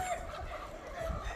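Free-range country chickens on a farm give soft, faint clucks in the early morning, heard briefly at a distance over low background noise.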